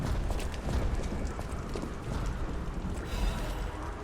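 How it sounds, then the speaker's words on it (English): Heavy, thudding footsteps of a huge puppet creature in the video game Lies of P, a steady stream of dull impacts over a dense, rumbling mechanical game soundscape with no speech. "I can hear some big ass footsteps, man."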